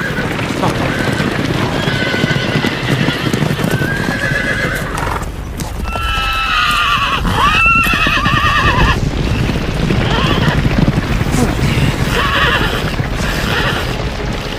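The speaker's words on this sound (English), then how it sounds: "Wild horses." Horses whinny loudly over galloping hooves, with shouting voices and a dense, dramatic backdrop throughout.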